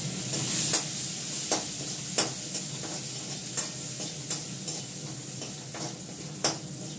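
Chopped onion frying in a pan with cumin seeds, a steady close sizzle punctuated every second or so by sharp ladle scrapes and taps, no talking.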